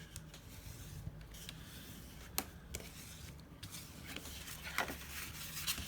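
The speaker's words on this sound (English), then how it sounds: "I'm going to fold and burnish" A paper file folder is folded and burnished along its score lines, giving a continuous close-up rubbing and scraping with a few sharp paper crackles scattered throughout.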